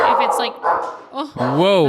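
An excited pet dog barks at trick-or-treaters outside, with a few sharp barks sounding close by, mixed with and overlapping a person talking.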